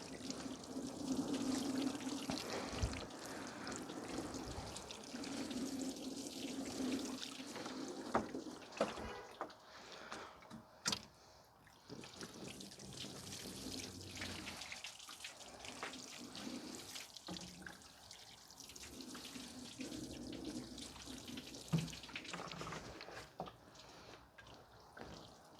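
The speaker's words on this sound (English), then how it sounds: "I'm just gonna wash down the area." A hose sprays water over the engine bay of a 2009 Subaru Impreza 2.5 SOHC, a steady rushing splash that continues with brief dips and changes in flow.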